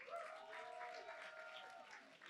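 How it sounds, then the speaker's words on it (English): Audience applause at a social club event at the Exploratorium, a steady wash of clapping lasting a couple of seconds, with a faint tonal whistle or cheer and some voices mixed in. "Everybody, round of applause for them."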